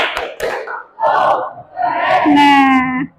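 At a teacher training class session, two sharp group claps are followed by a crowd loudly chanting the letters of an appreciation cheer together, ending in a long, drawn-out shouted word.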